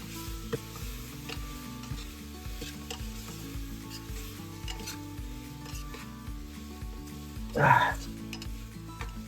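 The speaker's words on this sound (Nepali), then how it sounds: "अन्त जब यो मसलाले मजाले भुट्न दिनुपर्छ" Masala with ginger garlic paste fries and is stirred in a pan for a local chicken curry, making a low steady sizzle with scattered scrapes and one louder burst near the end, over a faint tonal background.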